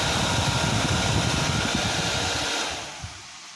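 Radiator fan on a Husqvarna TE250 motorcycle blowing with a steady broadband whoosh close by, then spinning down and fading near the end.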